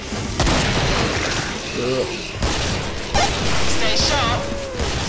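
Shotgun blasts boom repeatedly in the video game Killing Floor amid dense, loud combat noise, with a player talking over the gunfire.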